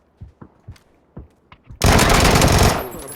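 Gunfire in the video game PUBG: a few faint, scattered distant shots lead into a loud, close burst of rapid automatic fire lasting over a second before tapering off.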